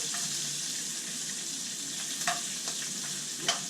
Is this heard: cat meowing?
no